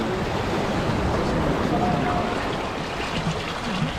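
Water from a small waterfall near Bheemili, Vizag, pours and flows steadily as a broad, continuous rush that stays even and close throughout.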